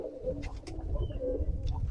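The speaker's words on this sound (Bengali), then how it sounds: "তো আপনারা দেখতে পাচ্ছেন এগুলা কিন্তু আমাদের ফ্লাইং কবুতর গুলা" Flying pigeons in a home loft coo softly in low, rolling bursts, with a few faint chirps over a quiet background.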